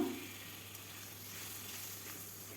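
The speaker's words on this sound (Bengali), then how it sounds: "যতক্ষণ না কাঁচা গন্ধ চলে যায় ততক্ষণ ভাজতেই থাকব" Spice paste fries in a pan with a splash of water, a steady soft sizzle running evenly throughout with no other sounds.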